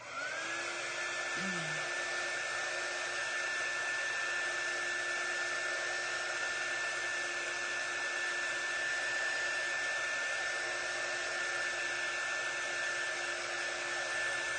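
A hair dryer blows a steady, loud whirring rush that drones on unchanged while drying a craft project, with no voices over it.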